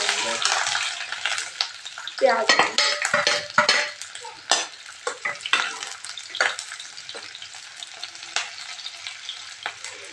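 Onions sizzling in hot oil in a pan over a lowered flame, a steady busy crackle broken by clinks and scrapes of a utensil stirring against the pan, close and fairly loud with no talk.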